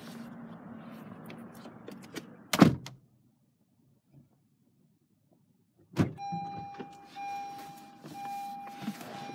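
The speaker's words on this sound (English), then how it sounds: "You have your power locks, power windows." Power door locks and power windows operating inside a car: a sharp lock thunk, a pause of near silence, another thunk, then a steady electric window motor whine with faint interior rattles.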